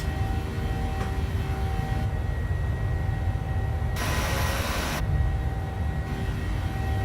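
Flaps extend on a PMDG 737-700 in Microsoft Flight Simulator, a broad airy whoosh rising for about a second over the steady, loud hum of the airliner's engines and cabin, with no voices.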